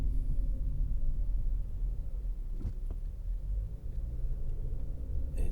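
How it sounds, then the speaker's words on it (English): A car drives along with a low, steady road rumble and engine drone, recorded inside on an AKASO Brave 7 LE action camera, with a couple of faint knocks and no voices. "I'm just driving with the camera just to do a little run test"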